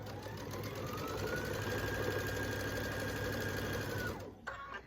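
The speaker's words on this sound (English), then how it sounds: "Then I'm going to take it to the sewing machine, and I am going to sew at a 1/4 inch seam allowance" A domestic sewing machine hums steadily at a quarter-inch seam, stitching binding onto the back of a quilt, running continuously for about four seconds before stopping abruptly with a small mechanical clunk.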